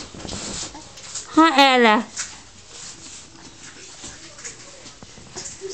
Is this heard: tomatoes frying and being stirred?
no